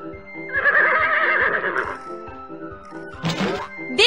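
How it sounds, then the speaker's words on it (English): A mustang horse gives a long, loud whinny up close, followed by a short second neigh burst and faint hoof-like clops between calls. "Mustang."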